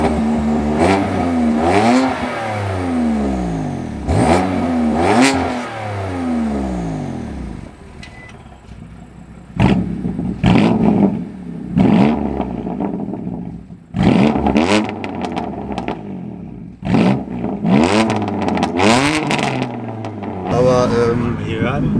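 BMW M4 Competition with its 590 hp inline-six accelerates hard in a series of rising, gear-shifted pulls, loud and close, with brief lifts between surges and a tunnel section adding echo.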